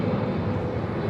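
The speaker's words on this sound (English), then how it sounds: "sound of an aeroplane adding beauty to the scenery" Pakistan International Airlines airplane flying overhead on a morning among flowers, a loud steady low engine roar filling the whole moment without a break.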